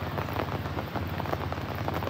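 Steady rain falling near a swollen, muddy river in the Sierra Madre mountains, a dense continuous patter with a low rushing undertone, even and unbroken.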